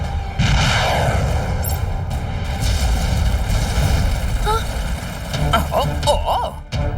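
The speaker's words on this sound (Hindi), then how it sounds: "तुमने मिसाइल फायर कर डाला" A cartoon missile launches and explodes in a booming rush of low rumbling blasts, loud and sustained, with a voice speaking over part of it near the middle.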